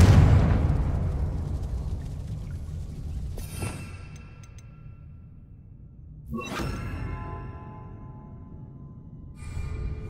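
Confringo blasting curse in the video game Hogwarts Legacy: a loud fiery explosion that rumbles and decays, followed by two more blasts several seconds apart, each with a crackling whoosh, no talk.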